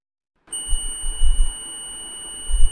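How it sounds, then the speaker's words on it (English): A steady high-pitched multimeter continuity beep switches on abruptly and holds continuously, with low thumps and handling noise underneath. "So we are getting a beep over here, which means there is continuity"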